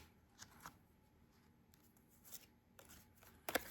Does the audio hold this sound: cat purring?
no